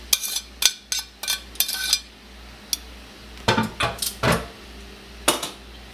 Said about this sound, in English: we are going to go ahead and add in the meat and all of the juices right back into this pot or this pan